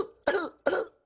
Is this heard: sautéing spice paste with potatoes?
no